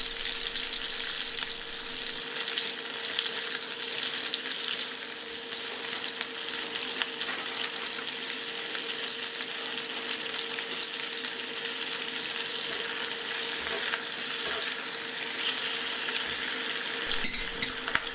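Sliced onion and garlic frying in a wok, a continuous, even sizzle with occasional stirring scrapes, close and steady with no voices.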